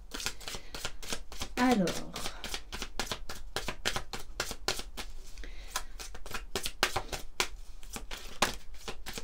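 Love Call Oracle cards are shuffled with a steady run of crisp, rapid card slaps and riffles. The beats are evenly spaced and close up, heard under a soft background hum, and a voice speaks briefly early on.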